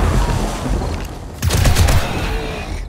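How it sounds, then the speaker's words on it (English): Enemy gunfire in the zombie survival game 7 Days To Die, a dense burst of rapid shots roaring up loud and close, then a second heavier volley. "He's shooting at me."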